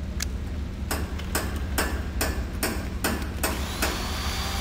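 Repeated metallic hammer strikes from vehicle repair in the video game Ex Machina, about eight evenly spaced clanks over a steady low engine-like hum, no talk.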